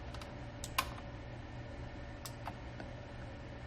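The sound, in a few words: pressing a key on a computer keyboard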